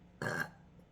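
A woman's single short burp, close and fairly loud, lasting about a quarter second against a quiet room.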